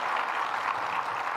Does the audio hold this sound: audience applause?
yes